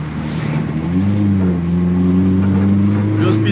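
A 1990 VW Gol Turbo accelerates through the gears, a loud, close, steady engine drone whose pitch climbs and shifts as it pulls, with no talk over it.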